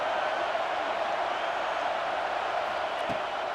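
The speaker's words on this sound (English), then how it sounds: "Here comes the noise from this big crowd in Happy Valley on third down." A big stadium crowd at Penn State's Happy Valley roars on third down in EA Sports College Football 26, a dense, steady wash of noise filling the whole stretch.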